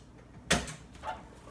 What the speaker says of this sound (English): Close this door so you can see.